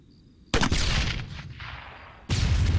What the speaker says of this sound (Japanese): あ、爆破した。